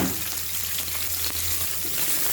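A large onion fries in ghee in a pot for lentil soup, giving a steady close sizzle with faint crackles and a low hum underneath, no talking.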